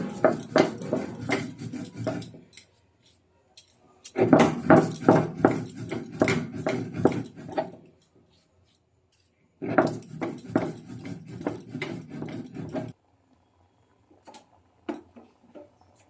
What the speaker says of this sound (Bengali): শুকনো সিলে এবার মশলাটা তাড়াতাড়ি করে বেটে নেবো